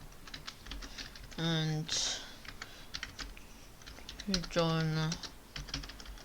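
Computer keyboard typing while writing HTML code, a steady run of light key clicks under a voice that speaks twice in short bursts.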